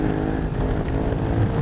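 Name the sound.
Ducati 916 motorcycle engine, on-board at Isle of Man TT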